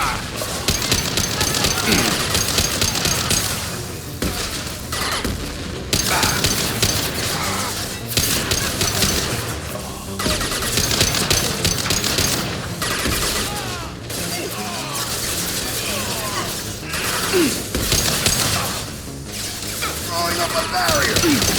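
Gunfire in the video game Mass Effect 2, dense bursts of automatic shots and impacts with crashes running almost continuously for about twenty seconds, loud and busy, mixed with game voices and music.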